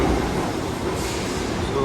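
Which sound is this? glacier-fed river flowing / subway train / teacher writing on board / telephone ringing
subway train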